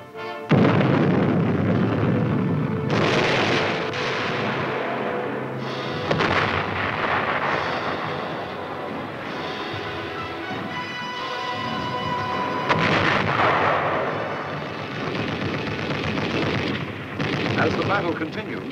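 Guided missiles explode on a battlefield in a series of loud, heavy booms that rumble and overlap, with a narrator speaking over them.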